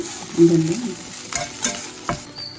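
Bread-potato masala with onions is stirred in a frying pan, a soft sizzle broken by a few scraping strokes of the spoon, close and fairly quiet.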